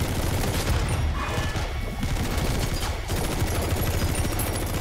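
Gunfire in the video game Metal Gear Solid V: dense, continuous bursts of automatic fire and overlapping shots fill the whole stretch at high volume, with no talk over it.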